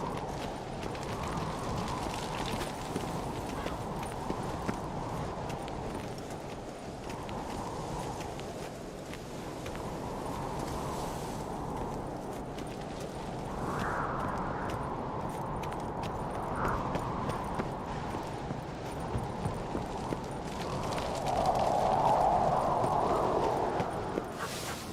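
Horse hooves gallop steadily in the Witcher 3 video game, a continuous rhythmic clatter lasting throughout with no speech and growing slightly louder near the end.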